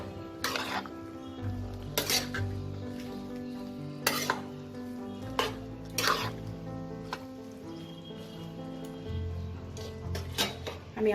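Bottle gourd curry with turmeric and cumin powder gets stirred in a pot, a spoon scraping and knocking against the metal in a few sharp strokes over a low sizzle. The kitchen is otherwise quiet.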